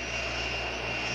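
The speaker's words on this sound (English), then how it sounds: "Red Barn, Boeing 757 is ready to taxi into position." Engines of a Boeing 757 jet taxiing onto a runway produce a steady, broad roar with a constant whine, continuous and fairly close, with no voices.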